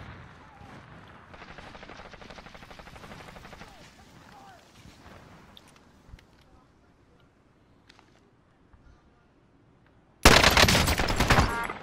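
Gunfire in the shooter game Warzone: rapid rattling shots early on, quieter scattered pops, then a sudden loud, sustained burst of fire near the end, with a player talking.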